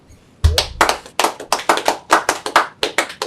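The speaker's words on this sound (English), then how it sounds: "Clap it up." A congregation at a Sabbath service claps hands in a steady, fairly quick rhythm, about a dozen loud, close, crisp claps following a short low thump, with no talking over them.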